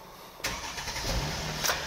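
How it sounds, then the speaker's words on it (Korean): A used car with push-button ignition cranks and fires up abruptly after a quiet start, then settles into a smooth, quiet idle close by, with no talking. "시동 걸었을 때도 와 진짜 힘있게 빵 하고 시동이 걸리면서 너무나도 정숙한 엔진음을 들려주고 있습니다."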